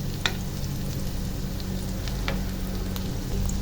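Food frying in oil in a pan while being cooked until golden brown for homemade Chinese yumein noodles, a steady close sizzle with a few light clicks of stirring.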